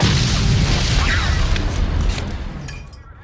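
A huge explosion in a game cutscene: a loud, dense boom that rumbles for about two seconds, then thins and fades away.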